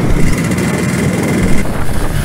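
A restored Yamaha RX100 motorcycle's two-stroke engine and exhaust: a steady, loud, buzzing drone close to the microphone, rough and raspy, with wind noise over it.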